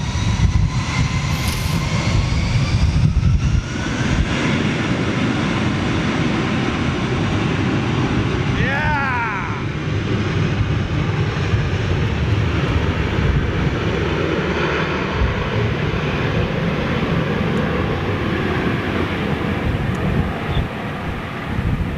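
Turkish Airlines Airbus A321 jet at Manchester Airport, a steady loud engine roar throughout with wind buffeting the microphone and a brief rising whine partway through, people talking over it.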